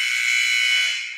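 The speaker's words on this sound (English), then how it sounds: "And there's the buzzer." Final buzzer sounding at the end of a college basketball game at Pioneer Pavilion in Harrison, Arkansas: one loud, sustained electronic blare lasting over a second and fading slightly at the close.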